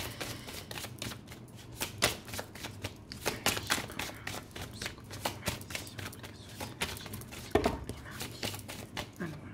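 Playing cards being shuffled close by in a quick series of crisp riffles and snaps, with soft taps in between and faint speech at times.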